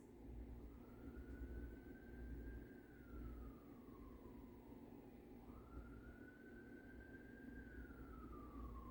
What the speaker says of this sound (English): Y'all hear that siren in the distance?